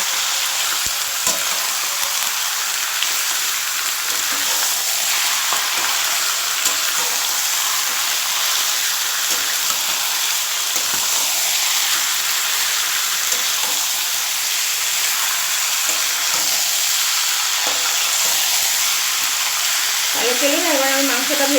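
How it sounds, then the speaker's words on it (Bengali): Pieces of duck meat fry hard in hot fat in a pan while being stirred, giving a loud, continuous sizzle and hiss throughout, with a brief clatter of stirring near the end. "মাংসটা আবার একটু ভালো করে ভেজে নিতে হবে"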